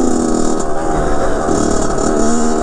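Engine of a 2007 Kawasaki KX 100 dirt bike under steady throttle while riding, a loud, buzzy two-stroke drone close to the rider with little variation and no talk.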